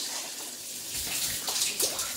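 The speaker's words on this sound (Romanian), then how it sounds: "Uite pompa noastră cât apă scoate." Water pours and splashes steadily from a submersible pump lifting it out of a 17 m deep well, a close, continuous gushing with no talking.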